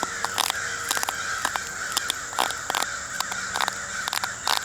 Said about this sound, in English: Sounds like the crows are after a hawk or something over there, raising all kinds of hell.